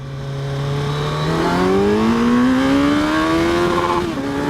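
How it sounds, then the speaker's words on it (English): A 2022 Kawasaki Z900 50th Anniversary Edition naked sport motorcycle accelerates hard up a ramp in first gear, its engine note climbing steadily and loudly before bouncing off the rev limiter near the end, with no talking. "Let's do a little acceleration test up this ramp before I start talking about the bike."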